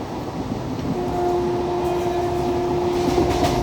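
An express train runs steadily through Mulki station without stopping in coastal India, a continuous rolling rumble with a faint sustained tonal whine, moderately loud and unbroken throughout, with no talk.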